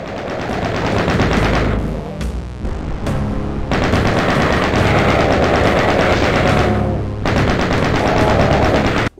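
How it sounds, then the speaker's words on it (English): A minigun in the original Doom video game fires loud, continuous rapid bursts, with brief breaks between long sustained streams of gunfire. "minigun is a must-have to kill bloody demons"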